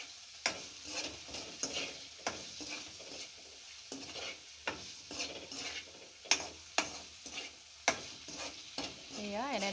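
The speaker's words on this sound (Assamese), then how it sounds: "এয়া এনেদৰে ভালদৰে লৰাই লৰাই ভাজি থাকিব।" Liver stir-frying in a pan as a dry fry, with a steady sizzle broken by repeated scraping stirs in an uneven rhythm, close and fairly loud, with no talk.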